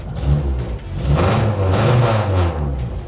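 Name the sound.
loud vintage car engine starting and revving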